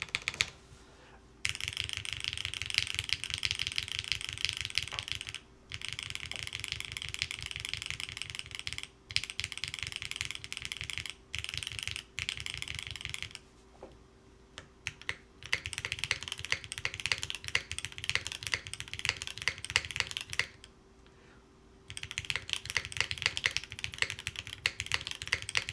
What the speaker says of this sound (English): Okay, we're gonna start typing now.